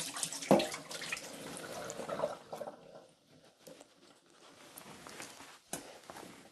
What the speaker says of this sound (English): Soak one more time. Just a quick rinse.